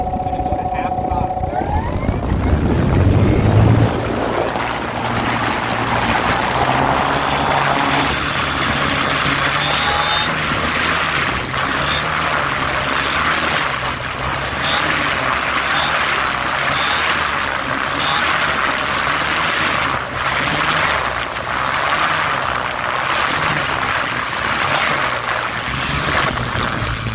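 A Champion Xtreme Decathlon 122-inch model aircraft engine with vibration issues holds a steady half-throttle drone, loud and close, with a rough buzzing and rattling texture that runs unbroken through the whole stretch.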